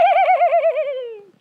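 A human voice imitates a horse neigh, one loud, close, quavering whinny that trembles rapidly and slides downward before fading out.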